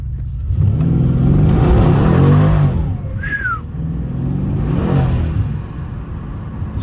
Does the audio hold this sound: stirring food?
no